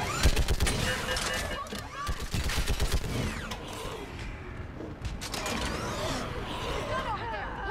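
A mounted gun fires in sustained rapid bursts in Mass Effect 3 amid a chaotic battle, with mechanical clanks, creaks and voices shouting over the dense, loud gunfire.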